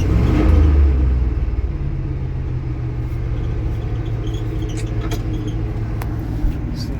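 Chevy square body truck engine stuck at high idle, a loud steady rumbling drone close by, with a brief surge at the start before settling into a constant throb.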